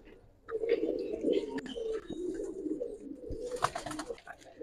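Several Giribaz pigeons brought down from an Old Dhaka rooftop coo together in a low, continuous warble, with scattered chirps and faint voices mixed in around them.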